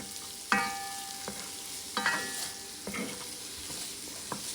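Vegetables for a lamb stew are stirred in a pot over medium-low heat, a soft sizzle broken by a few distinct scrapes and clanks of the spoon.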